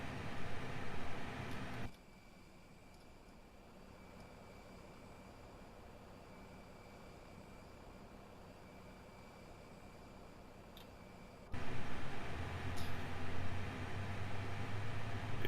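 Airbus A320 engine starting up in the X-Plane 11 flight simulator at Birmingham airport: a steady broadband rushing drone that drops quieter for several seconds, then swells back loud with a low hum underneath.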